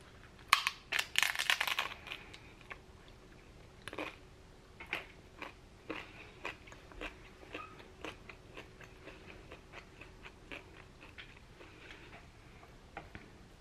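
Crunchy bites and chewing of gluten-free tacos at a dinner table, a loud burst of crunching at first followed by steady, quieter chewing with irregular crunches close to the mic.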